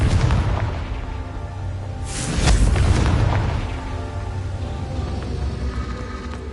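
Confringo fire spell blast in Hogwarts Legacy, a deep rumbling boom that swells over a continuous low roar, with a loud burst peaking in the middle.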